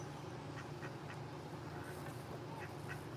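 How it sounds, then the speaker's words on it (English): Ducks quack at an RV campground in Pigeon Forge, several short quacks scattered over a steady outdoor hum, faint and a little distant. "These kids are getting ready to scare the ducks away."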